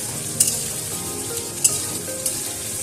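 Ginger paste frying with potatoes in a pan, a steady soft sizzle up close punctuated by three sharp metallic clicks of a spatula stirring, with no talk.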